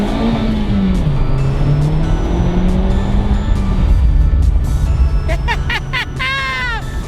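Honda Civic Type R accelerating from inside the cabin, a steady loud engine hum that rises in pitch, with a brief squeal-like whine near the end and no speech.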